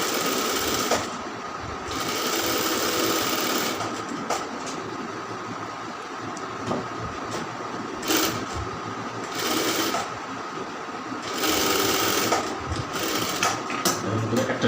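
Stitching along a round kameez neckline, a sewing machine runs in short repeated bursts with brief pauses between them, close and fairly loud.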